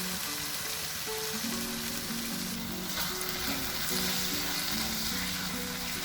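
Potatoes and light soy sauce sizzle steadily in a hot pan for a potato and anchovy dry sambal, a dense continuous frying hiss with faint stirring, close and loud with no talking.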